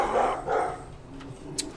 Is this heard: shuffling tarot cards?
no